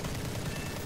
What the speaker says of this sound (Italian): il cannone non delude, è un 20 mm che fa paura